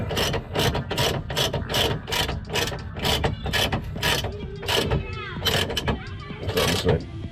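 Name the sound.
ratchet tightening WRX trailing arm bolts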